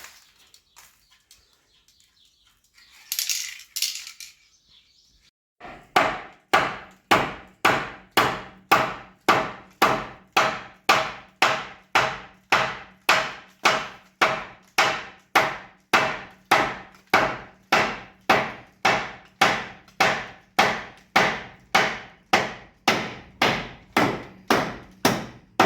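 A rear wheel carrier on a Land Rover Discovery 4 is hammered into place with a rapid, even run of loud metallic blows, each ringing briefly, after a short quiet start and a faint scrape.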